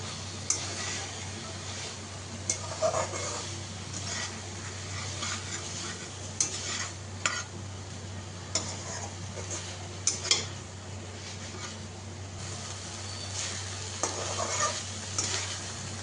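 Fried potatoes and pointed gourd go into lightly fried spice masala in a pan and get stirred, a soft ongoing sizzle broken by irregular clinks and scrapes of the spatula against the pan.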